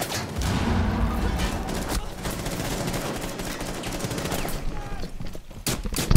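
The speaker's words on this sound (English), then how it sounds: "So that's Ella's shotgun on console" Ela's shotgun in Rainbow Six Siege on console, fired in a dense, loud burst of rapid shots that blur together over several seconds, with a few sharper blasts near the end.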